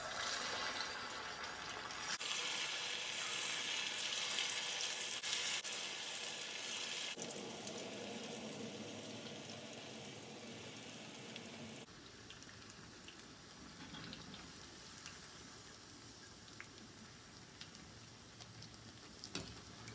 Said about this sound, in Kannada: ಎಣ್ಣೆ ಕಾದ ನಂತರ ಇದನ್ನು ಎಣ್ಣೆಯಲ್ಲಿ ಡೀಪ್ ಫ್ರೈ ಮಾಡೋಣ